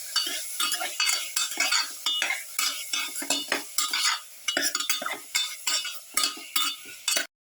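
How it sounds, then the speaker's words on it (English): A utensil stirs and scrapes through a pepper garlic beef stew in a pan, rhythmic clinks and scrapes repeating over a light sizzle, close and clear, ending abruptly. "Mix thoroughly"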